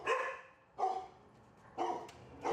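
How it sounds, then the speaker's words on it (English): A dog at an Arizona animal shelter barks in four separate bursts, spaced about a second apart, fairly close and clear with quiet gaps between. "Barking, a familiar sound to the Arizona Animal Welfare League."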